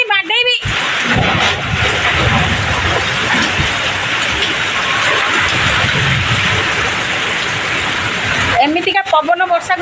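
Kalbaisakhi nor'wester storm with loud, steady wind roar and heavy rain sweeping continuously across the scene, close and intense, with a voice speaking briefly at the start and end.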